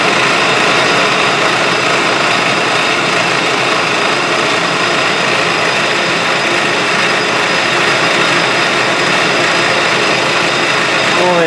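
A lathe spins a Hemingway Kit compact rotary broach at about 1765 RPM, making a loud, steady, dense mechanical roar and whir that holds without pause from start to finish.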